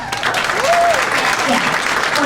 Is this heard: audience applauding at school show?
yes